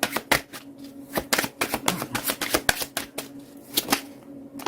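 A tarot deck is shuffled by hand in a quiet room, giving quick bursts of crisp riffling and slapping card clicks in an uneven rhythm.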